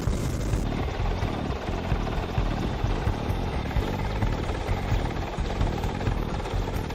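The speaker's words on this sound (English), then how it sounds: "So a Merlin's arrived from Culdrose Air Base to practice refuelling mid-air." A Merlin helicopter hovers low over a ship's flight deck during refuelling training, its rotors throbbing in a loud, continuous roar with a heavy low-end beat, close and unbroken throughout.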